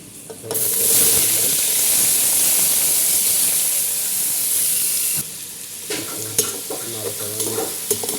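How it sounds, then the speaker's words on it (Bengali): Hot oil sizzles loudly and steadily in a pan for an okra vegetable dish, a close, continuous hiss that cuts off partway, followed by quieter stirring and light frying sounds, with no talk. "তেল দিচ্ছি পরিমাণে পরিমাণে তেল গরম হয়ে গেল এখন"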